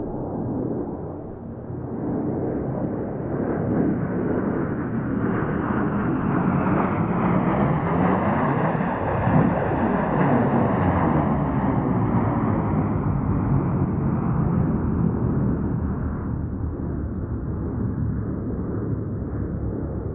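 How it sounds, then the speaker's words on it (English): Airplane roaring overhead during a go-around at Denver International Airport, a loud, long engine rumble that swells as the aircraft passes close by, then slowly fades, with a sweeping whoosh in the middle. "looks like we have a go-around."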